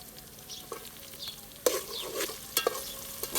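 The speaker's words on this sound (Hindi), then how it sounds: "तो अभी इसको आपने अच्छी तरीके से भून लेना है, टमाटर का अच्छी तरीके से पेस्ट बन जाए।" Chopped tomatoes frying in a pan for Pakistani village-style kadhi pakora, a soft steady sizzle broken by a few sharp scraping stirs of the spoon against the pan, close and fairly quiet with no voices.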